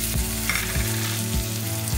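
Beans, carrots, cauliflower and other vegetables sautéing in a spoon of oil in a pressure cooker for navratan kurma, a dense steady sizzle with a low rhythmic humming tone beneath, close and continuous.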